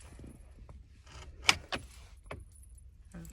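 Car keys jingle and clink close by in a few short bursts while a car is locked outside a supermarket in Akita, Japan, with faint ambient noise between the bursts.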